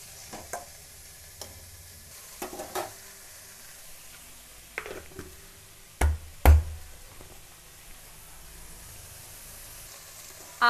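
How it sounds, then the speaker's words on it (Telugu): Minced keema meat fries in a pan as a faint, low sizzle, broken by a few sharp knocks and clatters of a spoon against the pan, two of them louder near the middle. "కీమా వేసుకొని బాగా ఫ్రై చేసుకోవాలి"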